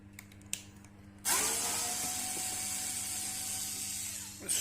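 A power screwdriver backs screws out of a Vecton 400 UV light casing: a short rattling start, then a steady close whirring that runs for about three seconds before cutting off, no talking.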